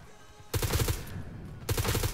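Rapid bursts of automatic gunfire crackle in the BRM5 video game, two clusters of quick, punchy shots separated by a short gap, loud and close with no talking over them.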